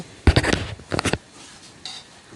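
A metal spoon scrapes and knocks against a pot of boiling milk in two short bursts of clatter, then quiet simmering follows.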